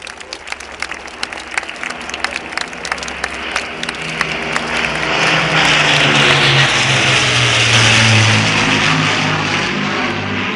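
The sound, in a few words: applause from crowd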